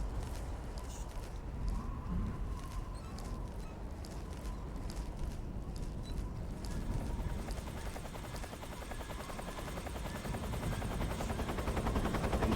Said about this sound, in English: you can hear the sound of the rotor to tell where the helicopter is.